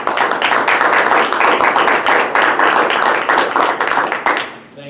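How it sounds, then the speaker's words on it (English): A room of people at a Canton school district board meeting breaks into a sustained round of applause, dense steady clapping for about four and a half seconds before it tapers off. "I just want to give you a round of applause"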